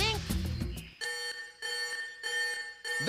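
Alarm ringing in a cartoon, an electronic bell sounding in four repeated bursts with short gaps, following a brief stretch of voices.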